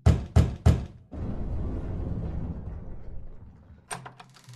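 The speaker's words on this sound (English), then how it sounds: "Let's be nice and knock" Three sharp, loud knocks on a door in The Wolf Among Us video game, followed by a muffled rumbling pause and a brief cluster of clicks near the end.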